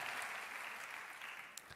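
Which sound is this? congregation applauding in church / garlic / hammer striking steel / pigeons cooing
congregation applauding in church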